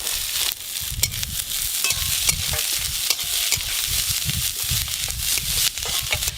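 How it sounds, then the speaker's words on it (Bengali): Chopped onions sizzling in a pan with ginger and garlic, stirred continuously so a spatula scrapes and clacks rhythmically over the steady frying, close and fairly loud, with no talk. "পেঁয়াজ কুচিগুলো একটু হালকা করে নেড়ে নিয়েছি"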